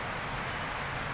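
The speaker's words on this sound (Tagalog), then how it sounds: "Ayun, oh, grabe yung ulan." Heavy rain pours steadily as a dense, even broadband wash with no breaks, close and fairly loud, alone without any voices.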